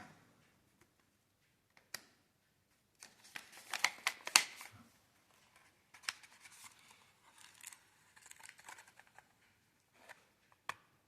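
Light crinkling and tearing of a small tomato seed packet, in scattered crisp clicks and rustles with quiet pauses between.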